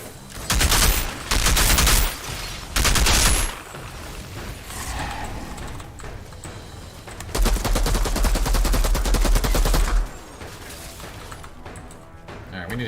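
Sniper and automatic gunfire in the video game Outriders, with loud bursts of shots that come and go in clusters, some sustained volleys and quieter gaps between them.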